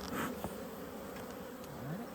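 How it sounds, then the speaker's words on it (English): Honey bees at an open hive in a pumpkin patch drone in a close, steady buzz, with individual bees swooping past in brief rising and falling tones. "Look at those bees."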